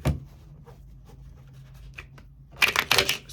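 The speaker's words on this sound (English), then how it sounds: "See how I'm taking bits and pieces out?" Tarot cards being shuffled by hand on a table, soft scattered rustles and taps, then a louder burst of quick riffling card sounds near the end.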